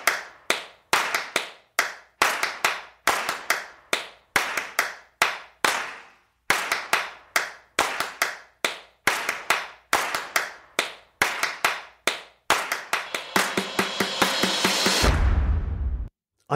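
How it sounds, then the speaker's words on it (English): Trailer music percussion built from claps and snaps hits in a steady rhythmic pattern of crisp, dry, close strikes with brief gaps. Near the end it swells into a dense roll with a deep low rumble before cutting off. "I had all my claps and snaps in one little section here."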